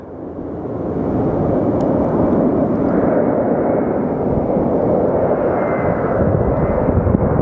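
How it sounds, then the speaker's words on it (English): A Delta Embraer jet taxiing at Phoenix Sky Harbor Airport gives a steady, loud engine roar with a broad rumbling hiss throughout, with wind noise and no voices. "Look at this little thing. It's a little Delta Embraer."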